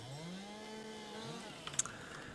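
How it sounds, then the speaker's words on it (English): A chainsaw idles and revs in Farm Simulator 22, a buzzing engine tone that rises in pitch and settles, with a few faint clicks near the end. "Thankfully, my chainsaw doesn't ever seem to run out of gas"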